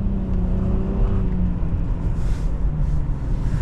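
A 2022 Nissan Rogue Platinum's 1.5L turbo engine pulls steadily under load, a continuous close engine drone with a rising tone and no voices.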